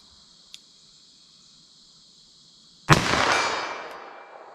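.38 Special +P handgun fired toward a target 75 yards away, one sharp loud shot that rings out and decays over more than a second outdoors, after a faint tick, with a steady insect-like whine in the background.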